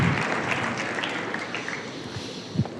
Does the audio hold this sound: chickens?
no